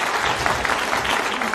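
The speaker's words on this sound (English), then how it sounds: "A little bit of noise in the audience." A snooker crowd at the 2023 Shanghai Masters breaks into steady, dense applause, a continuous wash of clapping that holds at an even level throughout the brief moment.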